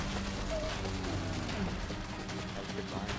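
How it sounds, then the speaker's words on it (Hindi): Weapon reload mechanism in the zombie shooter World War Z, with clicking, ratcheting metal handling close up over constant game noise and faint intermittent gunfire in the background. "एमो रिलोड कर लेता हूँ"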